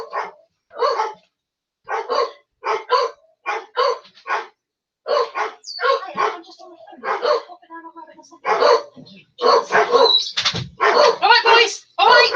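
Several dogs bark repeatedly at the postman arriving at a house, loud close bursts of barking in quick runs, growing busier and overlapping toward the end.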